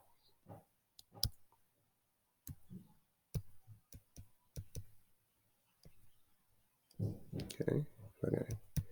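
A computer mouse clicks in a quiet room, giving a series of sharp, close clicks at irregular intervals, with soft speech in the background.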